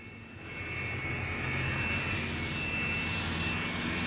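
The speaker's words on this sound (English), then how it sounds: "You can hear the engines beginning to run up now." Airliner engines running up, a rising then sustained roaring whine that grows louder over the first second and holds steady, heard from inside or nearby.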